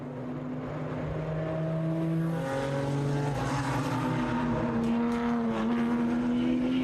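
Race cars lap a road course during a sprint race, engines droning steadily with shifting tonal whines as several cars pass through a banked carousel turn, continuous and fairly loud with no talk.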